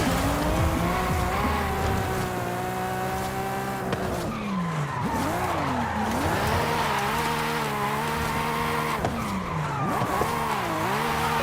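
Tires squeal continuously through a long car drift in Forza Horizon 5, played on a steering wheel around a volcano. The pitch wavers and swoops as the slide is held, over steady engine drone, loud and close, with no voices.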